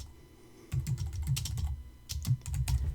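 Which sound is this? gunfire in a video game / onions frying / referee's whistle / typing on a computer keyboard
typing on a computer keyboard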